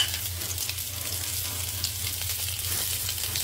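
Chopped onion sizzles steadily in a hot pan for a Filipino ginataang langka with shrimp, a dense continuous frying hiss with faint stirring underneath, with no talking.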